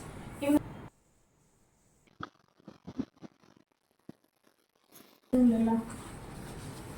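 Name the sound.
scissors cutting silk fabric for a child's dress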